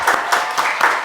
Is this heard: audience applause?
yes